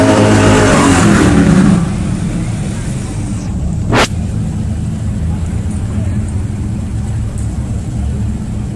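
A 1964 Pontiac GTO with tri-power, 348 horsepower, roars off the line at a pure stock muscle car drag race, loud engine noise fading into a distant drone, with a brief sharp whine midway and an announcer talking over it.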